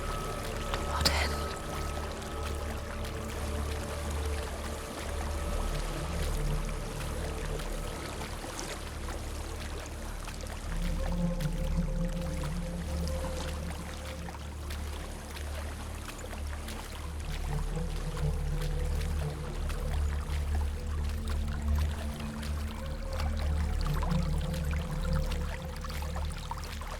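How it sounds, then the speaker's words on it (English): A waterfall in the Hellblade: Senua's Sacrifice video game rushes as a continuous, moderately loud wash of falling water, layered with low ambient game drones and tones throughout. "There's a waterfall."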